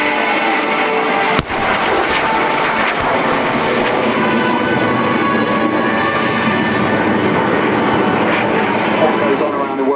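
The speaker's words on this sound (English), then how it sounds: "this is also a very rare occasion to see these little L-29 jets here from the Red Star Rebels actually landing at a UK base" Small L-29 jet trainers of the Red Star Rebels landing at a UK naval air base during an air display, a steady loud jet roar filling the scene with one sharp bang near the start, under commentary.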